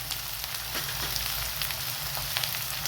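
Masala spiced with red chili powder fries in oil for a drumstick masala dish, giving a steady close sizzle with faint pops and crackles throughout.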